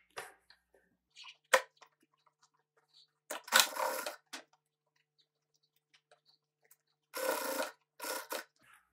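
A sewing machine topstitches a seam on a bag lining in short, separate bursts close by, with quiet pauses and faint handling noises between runs.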